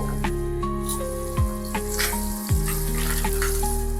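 Bay leaf, cinnamon and cloves frying in hot oil give off a steady soft sizzle, while sustained tonal notes of background music play over it and shift in pitch, with no speech.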